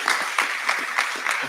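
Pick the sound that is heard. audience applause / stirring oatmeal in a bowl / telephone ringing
audience applause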